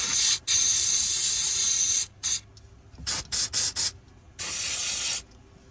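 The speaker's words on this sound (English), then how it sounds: "you can spray it with a little bit of brake clean to clean off the residual fluid" Aerosol brake cleaner hisses close up in bursts while cleaning brake fluid off a RAM 1500: two long sprays, several short quick squirts, then another long spray, with quiet gaps between.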